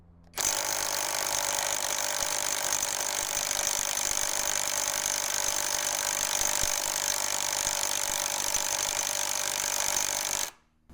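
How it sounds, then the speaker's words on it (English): Ingco cordless impact wrench on its nut-busting setting at 450 Nm, hammering steadily against a tight nut in one continuous loud burst of about ten seconds, then stopping abruptly. "Let's move on to 450 Newton meters with the nut bust feature and let's see if it's able to loosen."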